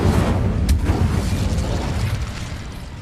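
A fiery Incendio spell erupts in Hogwarts Legacy, a loud, close explosion of roaring crackle and deep rumble with a sharp burst early on, sustained and slowly fading over three seconds.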